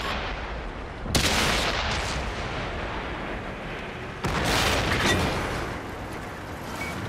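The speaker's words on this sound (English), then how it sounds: "Ready to fire on target." Two loud, broadband cannon blasts from a T-62A tank in World of Tanks, the first around one second in and the second about three seconds later, each followed by a lingering rumble and battlefield noise.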